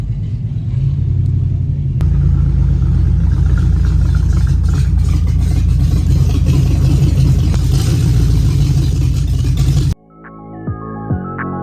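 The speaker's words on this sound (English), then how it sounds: "Time to start my car and head on home." A car engine runs with a loud, steady, close rumble for about ten seconds, with a rise at the start as it fires up and pulls away, then cuts to quieter tonal sounds at the end.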